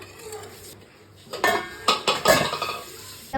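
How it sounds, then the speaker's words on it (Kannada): A metal lid clatters onto a pan of paneer cooking in butter masala, giving several sharp close clinks and knocks in quick succession over a quiet kitchen background. "ಒಂದು ಸ್ವಲ್ಪ ಹೊತ್ತು ಕ್ಯಾಪ್ನ ಮುಚ್ಚಿ ಬೇಯಿಸ್ಕೊಳ್ಳೋಣ"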